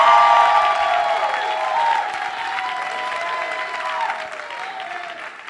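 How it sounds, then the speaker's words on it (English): An audience at a press conference for signing a pay raise bill claps for an honored guest, the applause strongest at first and then gradually thinning and fading away. "Please give him a great applause."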